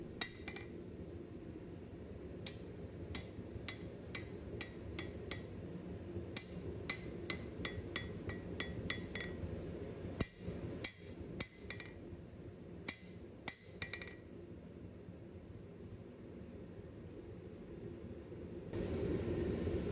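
A blacksmith hammers a taper on an anvil, smoothing lumps and straightening the bar, sharp ringing metallic strikes in irregular bursts and quick clusters, then a pause, heard close and without talk.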